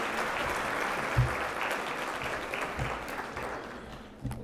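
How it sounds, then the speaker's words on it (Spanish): An audience at a therapeutic justice conference applauds steadily, a dense, sustained clatter of many hands at moderate distance that tapers slightly near the end. "Brindémosle un fuerte aplauso."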